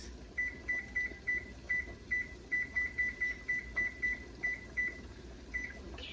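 A series of short, high electronic beeps repeats in quick rhythm, closely spaced with brief pauses, over a low background hum.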